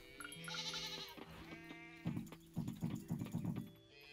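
A goat bleats in the farming video game Coral Island, a drawn-out wavering cry followed by several quick, choppy bleats, close and clear over faint game music.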